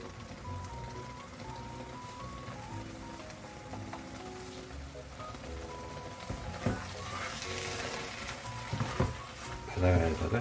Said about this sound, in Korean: 바글바글 볶아줍니다.